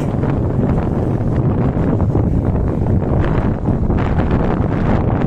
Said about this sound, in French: Il y a du vent avec le froid